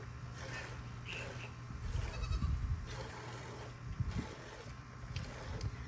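A large nanny goat bleats during milking on a homestead, a few low, drawn-out calls up close over a steady background hum and faint handling noises.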